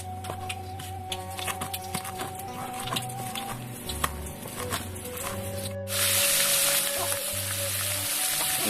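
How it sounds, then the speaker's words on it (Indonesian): Weder fish frying in a pan with oil, a steady crackling sizzle close by that swells into a louder, dense hiss partway through, with no talking. "Sudah kita goreng. Tinggal nunggu sampai matang."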